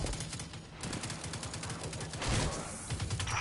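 Rapid, sustained flak cannon fire from Destiny 2, a dense continuous barrage of booming bursts that swells louder near the end, with no voices.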